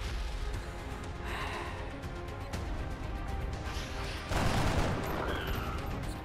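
Gunfire crackles through a video game firefight, with repeated dense bursts and scattered shots at steady moderate loudness and a louder burst of fire near the end, with no speech over it.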